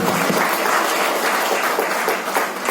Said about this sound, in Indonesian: Kita tepuk tangan yang meriah untuk acara ini.